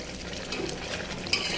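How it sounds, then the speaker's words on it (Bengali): Vegetables tossed in a pan with a spice tempering make a short burst of soft stirring and gentle frying sizzle, ending in one brief clink of a utensil. No voices. "খুব ভালো করে নাড়াচাড়া করতে হবে"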